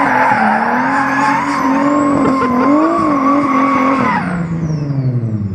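A Mazda Miata with a single-turbo VQ engine swap revs hard under acceleration, loud and close, its engine note climbing and holding before falling away with some tire noise.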